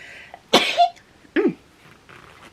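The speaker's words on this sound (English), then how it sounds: "I'm gonna sneeze." A single sharp sneeze-like burst up close, followed by a second shorter throaty burst, in an otherwise quiet indoor room.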